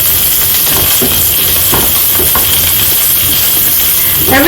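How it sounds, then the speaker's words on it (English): Already-cooked meat frying hard in a hot pan, a loud continuous sizzle and hiss that holds steady from start to finish, with no voices over it. "So I'll put in my meat now."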